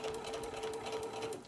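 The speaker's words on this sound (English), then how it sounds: "I'm just gonna sew myself a nice seam all the way around to hold my layers in place" A sewing machine with a walking foot stitches a seam through several layers of fabric for a kitchen hot pad, making a steady, close mechanical whirr with quick regular needle clatter and no talk.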